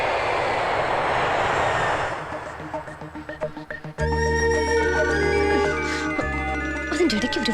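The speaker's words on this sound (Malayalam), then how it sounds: "സർ, ഫ്ലൈറ്റ് ഇപ്പോഴാ സാർ ലാൻഡ് ചെയ്തത്." An airplane lands with a broad, rushing engine roar that fills the first couple of seconds and then fades into dramatic film music.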